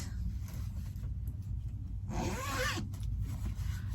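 A zipper on a fabric cross-stitch project bag is pulled in one quick rasping stroke lasting under a second, set against a low background hum.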